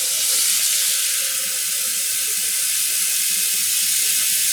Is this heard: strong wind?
no